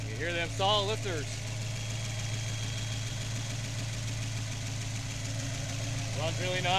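A 1970 Ford Mustang Boss 302 V8 with solid lifters idles steadily throughout, a constant low rumble with a faint ticking texture, while someone talks briefly at the start and end.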